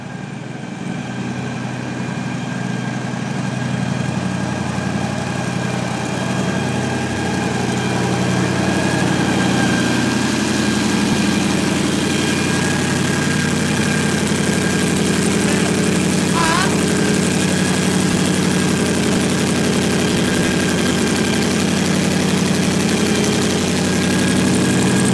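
The Hot Wheels Twin Mill hot rod, a twin-engine show car, idling with a steady, loud, rumbling drone that swells slightly and holds for the whole stretch.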